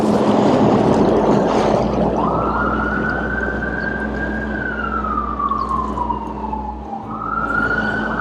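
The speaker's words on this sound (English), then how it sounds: "nothing like the sound of fire trucks in downtown Toronto" A fire truck siren wails loudly close by in downtown Toronto, its tone rising and falling slowly over a constant rumble of city traffic and engine noise.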